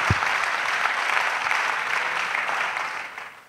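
A church congregation at a missionaries' annual retreat in Côte d'Ivoire bursts into sustained hand-clapping, a dense wash of applause that holds for about three seconds before tapering off.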